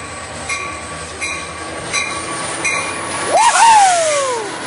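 A Coaster commuter train rumbles steadily past at close range at Oceanside Transit Center, with a rising metallic wheel squeal near the end over the continuous rolling noise.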